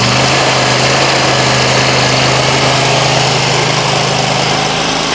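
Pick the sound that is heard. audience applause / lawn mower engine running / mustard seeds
lawn mower engine running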